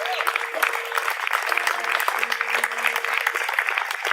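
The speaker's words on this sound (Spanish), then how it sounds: "Dale un aplauso al Señor, por favor." A church congregation applauds during a Spanish-language worship service, a steady wash of many hands clapping with voices and cheers mixed in throughout.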